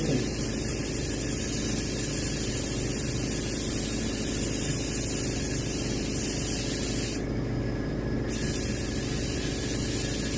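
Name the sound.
spray painting a striped bass fish mount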